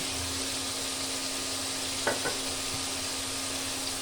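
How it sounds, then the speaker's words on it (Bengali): Taro (kochu) frying with spices in a pan, a soft steady sizzle with a couple of brief stirring scrapes in the middle, quiet and without talk. "এই জন্য একটু ভালো করে কষিয়ে নিচ্ছি।"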